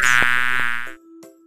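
A cartoon bee in the Kiddopia kids game gives a loud, close buzzing drone that pulses slightly for under a second, then drops to a quieter, lower hum after a short gap, with nobody speaking.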